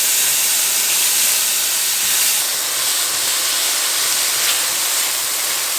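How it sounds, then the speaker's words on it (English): Yellow onion and minced garlic dropped into a hot cooking pan, a steady loud sizzle and hiss that holds evenly throughout. "now I'm adding the yellow onion and like a tablespoon of minced garlic"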